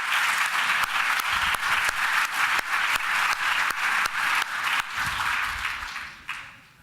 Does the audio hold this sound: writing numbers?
no